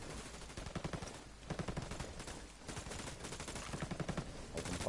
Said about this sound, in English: Alright, opening fire.